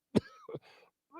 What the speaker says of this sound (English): excuse me while I clear my throat here.